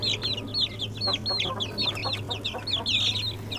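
One-month-old Pama chicks clucking and peeping in quick, repeated high calls, several birds close together, over a steady low background hum.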